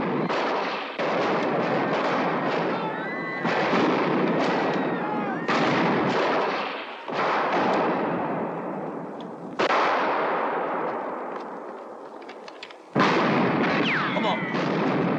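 Gunfire in a classic western film shootout, with rapid bursts of shots in several loud, dense volleys separated by brief gaps, echoing throughout, while voices shout over them.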